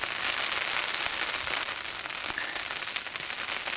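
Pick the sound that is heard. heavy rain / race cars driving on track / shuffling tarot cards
heavy rain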